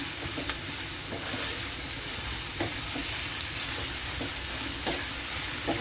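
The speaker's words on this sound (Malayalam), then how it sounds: "ഈ സവോളയൊക്കെ പെട്ടെന്ന് നമുക്ക് വഴന്ന് കിട്ടും" Sliced onions sautéing with salt in a hot pan for mutton dum biryani, a steady close sizzle and hiss with occasional soft scrapes and clicks of stirring.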